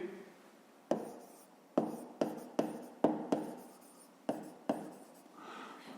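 A pen writing by hand on paper while working a fifth-grade math exercise: a series of close, distinct scratchy strokes in irregular rhythm, each with a quick tap at the start, and no voice.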